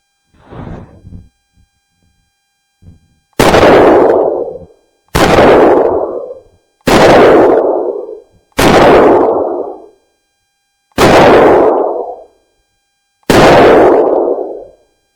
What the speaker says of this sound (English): I'm just gonna fire at the plates about 25 yards away.